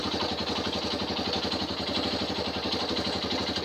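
A Suzuki Thunder motorcycle with a PE28 carburetor idles at about 1500 rpm with a steady, even rhythmic putter, close and continuous, with no talking.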